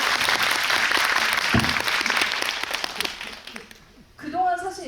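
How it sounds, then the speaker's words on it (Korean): Audience applause in a cinema hall during a guest visit screening, a dense crowd clapping that fades over several seconds before a voice begins speaking. "멋있다고 생각하시면 박수 한번 부탁드릴게요"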